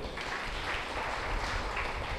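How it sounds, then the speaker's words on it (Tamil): An audience claps at the 182nd annual feast of St. Ignatius shrine in Sathampatti, a dense, even burst of applause sustained at steady loudness throughout. "எல்லாம் கைத்தட்டுங்க."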